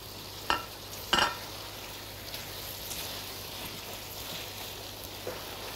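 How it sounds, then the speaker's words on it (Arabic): Apples being stirred into caramel with butter in a pan, a soft continuous bubbling sizzle with two sharp utensil knocks early on. "هنقلب معاه التفاح. وهنحط كمان شوية زبدة."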